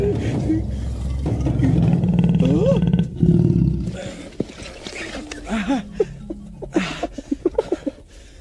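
A lion roars loudly in a comedy film, with deep drawn-out growling bursts followed by a string of short grunts, close and over other background sounds.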